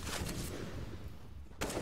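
Gunfire crackles during a Counter-Strike match on Mirage between G2 and Mad Lions, with bursts of shots at the start and another sharp burst near the end, somewhat distant and moderately quiet.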